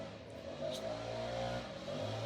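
A lawn mower cutting grass outside drones faintly in the distance, a steady low engine hum with slight rises and falls in pitch throughout.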